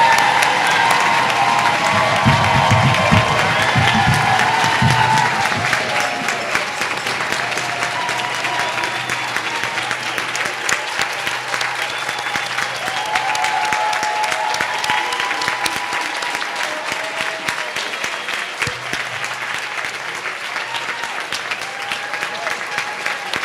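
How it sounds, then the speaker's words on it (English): A graduation crowd gives a long, loud round of applause to a 2023 pediatrics residency graduating class. The clapping stays dense and steady throughout, with some cheering mixed in early on. "Let's give our graduating class of 2023 one more round of applause."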